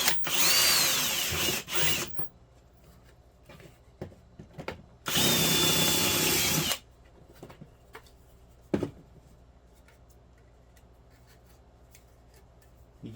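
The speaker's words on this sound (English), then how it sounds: "We will drill a 9/16 hole" Power drill boring a 9/16-inch hole in thin-wall PVC pipe: two loud whirring bursts of about two and five seconds, separated by a pause, then quiet with faint handling clicks.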